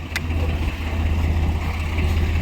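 A Swaraj 855 tractor engine idling on a farm, a steady low diesel throb running evenly and fairly close throughout, with a faint high whine above it.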